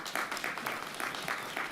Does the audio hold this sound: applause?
yes